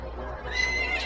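A horse whinnies during a race, one rising neigh with faint hoof clatter beneath, close and clear.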